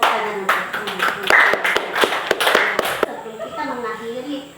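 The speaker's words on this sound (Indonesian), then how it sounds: "Tepuk tangan untuk" A group of schoolchildren in a classroom claps briskly together for a few seconds, sharp overlapping hand claps that stop abruptly, followed by faint children's voices.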